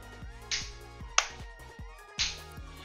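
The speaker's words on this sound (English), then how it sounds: "if you clap or hit the bongo on the sides," Three sharp slaps land on the side of a bongo controller, evenly spaced and close, each with a bright crack over a background of game music.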